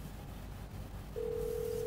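A phone call in GTA 5 sits under a low hum of background noise, then a steady electronic ringing tone begins and holds unbroken to the end.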